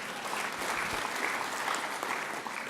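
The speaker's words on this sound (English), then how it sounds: "And you can clap for John, that's good too." Audience at a New Jersey Hall of Fame induction ceremony clapping steadily, a dense, even applause from a sizable crowd throughout.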